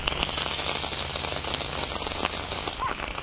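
Steady rain pours during the monsoon season outdoors near a river, where cattle stand in the wet, a dense continuous hiss of drops on surfaces with no voices.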